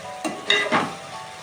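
Chicken curry being stirred and mixed in a pan, a few brief scraping strokes with a soft sizzle underneath, close and fairly quiet.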